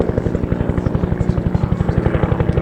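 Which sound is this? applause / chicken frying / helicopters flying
helicopters flying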